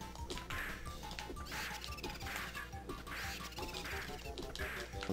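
A duck-like quack from Donkey Kong 64 repeats in a steady rhythm, about six bright honks over busy, clattering game sounds at moderate loudness.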